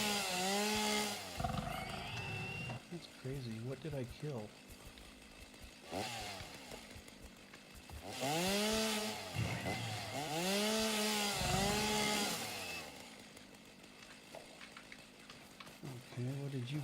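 A chainsaw in the video game Satisfactory revs in repeated rising and falling bursts over about seventeen seconds, loud and close, with someone talking in between.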